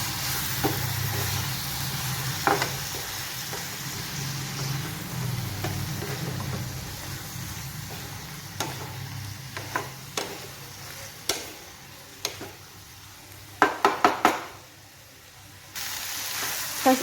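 Tomato and onion frying in oil in a pan for a gravy, with a steady low sizzle and scattered utensil scrapes and taps as the mix is stirred, growing more frequent near the end; no talking.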